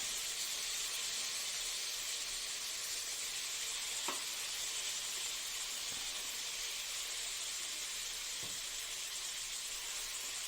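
Minced chicken frying in a pan with capsicum, onion and tomato gives a steady, even sizzle and hiss throughout, with a few faint clinks of stirring.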